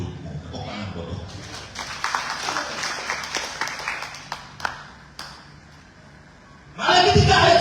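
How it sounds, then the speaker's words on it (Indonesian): A church congregation claps in praise during a sermon, scattered hand claps rising and thinning over several seconds before a burst of louder noise at the end. "Tepuk tangan buat Tuhan."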